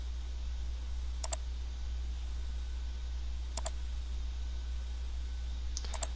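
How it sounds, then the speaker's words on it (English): Arrow keys on a computer keyboard are pressed three times, sharp isolated clicks spaced a couple of seconds apart over a quiet background with steady low electrical hum. "to advance the video, I'm using the arrow keys on the keyboard"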